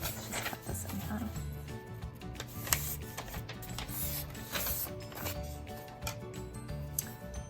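Scissors cutting a sheet of paper in half for a hill mask on a holiday card, with close crisp snips and paper rustling at an uneven pace.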